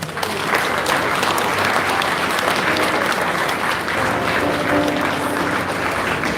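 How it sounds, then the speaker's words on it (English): Loud, sustained applause from a large lecture audience at a memorial lecture, dense clapping filling the room throughout with a few faint voices underneath. "Can we have a thunderous applause to celebrate the guest lecturer"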